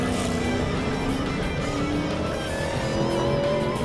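Stock cars racing at Daytona during a wreck-filled race, a steady loud roar of engines with no breaks and no voices heard.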